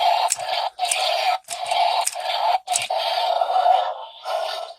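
A Mattel Jurassic World Dino Trackers Wild Roar Diabloceratops toy gives off a jumbled series of harsh electronic roars, four or five close bursts with short breaks between them, loud and alone.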